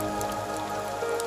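Rain falling on a village in the evening, a steady patter with scattered drops against a constant wash of noise.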